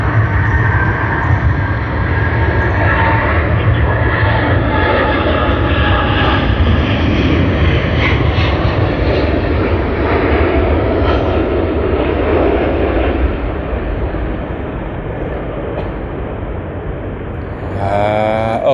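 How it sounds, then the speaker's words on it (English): A Korean Air jet on its takeoff roll at Sydney Airport, bound for Seoul, produces a loud, sustained engine roar that builds and holds close by, easing slightly near the end, with no voices. "KE402 has just begun its takeoff roll for its flight to Seoul"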